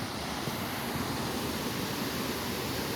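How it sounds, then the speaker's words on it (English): Waterfalls rush on a sunny afternoon, a steady, dense roar of falling water that fills the whole stretch evenly, close and moderately loud, with no talking. "this beautiful sound of the waterfalls"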